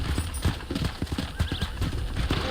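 Horse hooves clip-clopping in the video game Red Dead Redemption, a brisk, steady rhythm of hoofbeats close up with a faint whinny mixed in.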